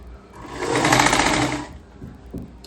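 A sewing machine stitches a seam on a kurti in one short burst, whirring up, running steadily for about a second, then stopping, followed by soft handling noises.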